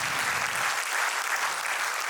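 Audience applause after a call to thank the heroine of the film Against the Wind and her family, a dense, steady wash of many hands clapping throughout, loud and close, with no talk over it.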